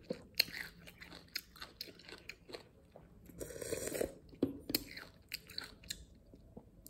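Crunchy bites and wet chewing on a hard chamoy-coated pickle, close and loud, with irregular sharp crunches and squishy mastication sounds and no talking.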